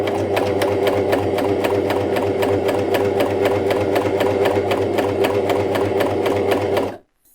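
A Janome CoverPro 2000CPX coverstitch sewing machine runs at a steady fast pace, its needle clattering in a rapid even rhythm, loud and close for about seven seconds before stopping abruptly.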